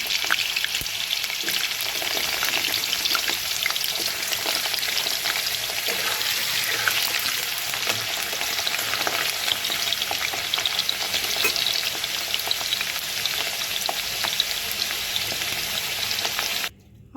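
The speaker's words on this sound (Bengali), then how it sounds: "আলুটাকে দিয়ে দেবো আলুটাকে ভাজবে" Potatoes frying in a pan give a loud, dense, continuous sizzle that holds evenly for about seventeen seconds, then cuts off abruptly at the end; no one speaks.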